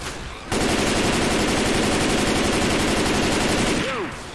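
Rapid automatic gunfire while shooting zombies in the video game Left 4 Dead: a loud, continuous stream of shots lasting several seconds, stopping abruptly near the end.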